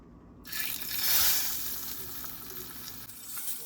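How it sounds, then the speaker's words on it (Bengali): An egg fries in hot mustard oil with a steady, close crackling sizzle that swells briefly and then settles into a constant hiss, with no talking. "একটু সর্ষের তেল দিয়ে ডিমটাকে ভেজে নেবো"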